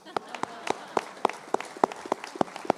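Slow, evenly spaced group claps ring out at an exhibition opening reception, each a crisp, distinct burst roughly every quarter second, with soft room murmur between them.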